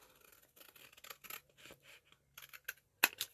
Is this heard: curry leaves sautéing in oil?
no